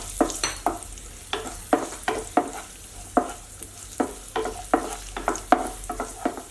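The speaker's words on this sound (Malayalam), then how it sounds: "അതിനുശേഷം ഞാനിവിടെ റൈസിൻസ് ഇട്ട് കൊടുക്കുന്നുണ്ട്." Cashews and raisins frying in ghee in a pan, heard as a close, steady run of sharp stirring scrapes and clicks at an uneven rhythm over a low continuous sizzle, with no talking.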